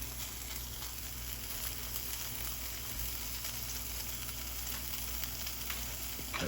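Burger patties sizzle on a hot griddle in a constant, close, crackling hiss with small pops scattered throughout, heard without any talking.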